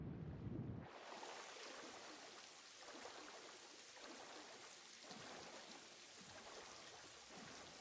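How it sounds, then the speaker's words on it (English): Steady rain falling onto water in the video game Satisfactory, a dense, even hiss that begins abruptly after a brief muffled moment and continues alone at moderate level. "Also going to see if we could see the rain on the water."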